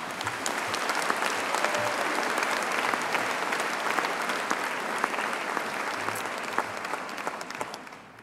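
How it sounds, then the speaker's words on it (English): Audience applause at a university graduation ceremony, a large hall of sustained dense clapping that holds steady and tapers off at the end. "So please give him a rapturous round of applause"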